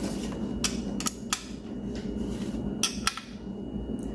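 A small wrench tightens bolts during final assembly of a 360 Magnum V8 engine for a 1973 Dart, giving scattered sharp metallic clicks and taps, some in quick pairs, over a faint steady background hum.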